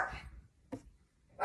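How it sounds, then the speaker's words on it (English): Dogs indoors giving a few short barks, three bursts spread over a second and a half, fairly close and moderately loud with quiet gaps between. "I gotta lock the dogs out because they're all barking"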